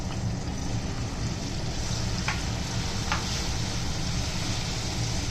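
Ginger and garlic fry for dal sambar in a home kitchen, giving a steady, close sizzle with a couple of faint clinks of stirring and no talking.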